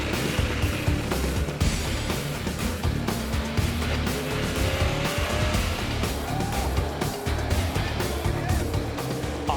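The number 49 Rush HD Dodge race car charges into a chicane, its engine roaring loud and steady with brief tire squeal amid other racing cars, under a commentator's talk.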